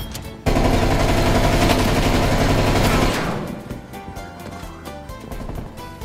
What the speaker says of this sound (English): People shooting everything.